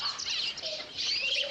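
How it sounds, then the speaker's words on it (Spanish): Redbirds chirp in quick, bright bursts, a cluster of high tweets over soft background hiss, close and moderately loud across the short stretch. "No, those are redbirds."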